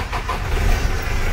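A Toyota Land Cruiser BJ40 4x4 diesel engine runs steadily with a low, rumbling idle and a slight rise in revs, close by and fairly loud, with no one talking.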